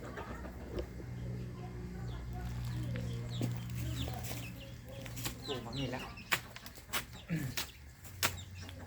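Chickens cluck softly at close range in a quiet rural yard, with scattered short calls and occasional sharp knocks or pecks. A low hum runs underneath, and a voice speaks at times.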